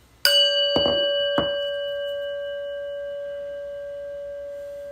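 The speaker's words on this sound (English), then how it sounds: "listen to the prayer bell" A single prayer bell strikes clearly and rings out, its tone slowly decaying over several seconds, with a couple of soft thumps just after the strike.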